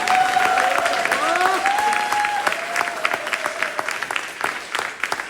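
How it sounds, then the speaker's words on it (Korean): A crowd at a political campaign disbanding ceremony in Bundang breaks into loud, sustained applause, steady at first and thinning into scattered claps toward the end, with a voice speaking over the opening stretch. "큰 박수를 부탁드립니다."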